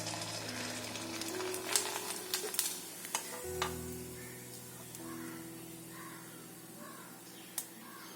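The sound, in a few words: vathal (sun-dried rice crisps) frying in hot oil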